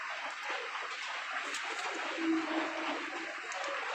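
Racing pigeons in a loft give low, soft cooing at a distance over a faint, steady background hiss.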